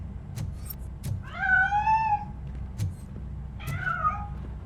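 A cat meows in the video game Robocop Rogue City, two clear, drawn-out wavering cries a couple of seconds apart over a low ambient hum.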